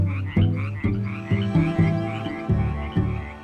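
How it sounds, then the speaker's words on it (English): Frogs and toads croak in a rapid, repeating chorus of loud, close calls along a restored creek, with no voices present. "We've seen a lot of toads and frogs come back where they were here previously"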